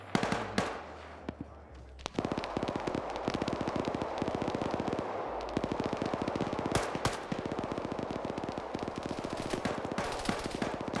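Rapid automatic gunfire from a tactical video game match, sustained volleys of sharp shots crackling almost nonstop, some bursts near and loud, others layered farther off.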